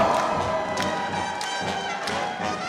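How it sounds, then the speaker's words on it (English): An audience at a foundation grant winner celebration clapping along in a steady rhythm, sharp regular claps about every half second over a dense bed of music and crowd noise. "put your hands together now. Let's clap along"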